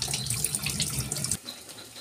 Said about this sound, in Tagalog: Maghugas muna tayo ng ating kamay.